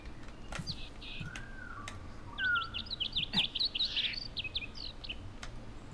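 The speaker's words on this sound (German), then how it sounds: "Das war wieder dieser komische Vogel." A strange bird calling in the survival video game DayZ: a quick series of chirping, warbling notes in the middle of the stretch, with a few thin whistles and soft clicks around it and no speech.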